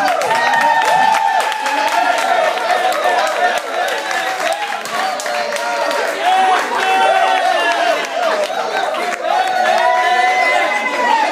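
Audience at a church appreciation ceremony applauding, dense steady clapping mixed with cheers and crowd chatter, loud and sustained throughout.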